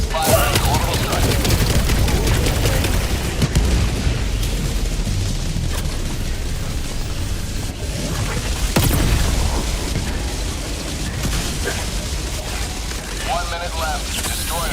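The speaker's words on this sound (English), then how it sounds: "Firing orbital strike." Orbital strike explosions in the game Helldivers 2 go off as a loud, continuous barrage of booms and rumbling blasts, with a sharp crack near the middle, while players talk over the chaos.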